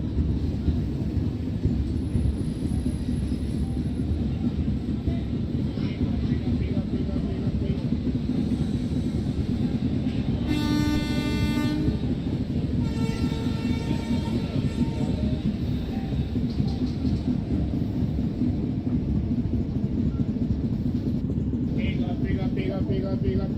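A steady, loud rumble comes from a simulated Indian express train pulling away from platform 4 at Chennai Egmore, heard continuously throughout.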